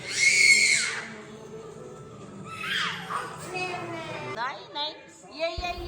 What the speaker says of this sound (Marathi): घरी आल्यावर यांचा असा आरडाओरडा सुरू झाला होता